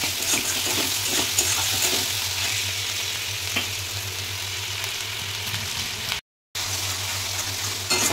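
Onion and garlic paste masala sautéing in a pan for a bhetki fish kalia, a steady close sizzle and frying crackle running throughout with a brief dropout near the end, no voices.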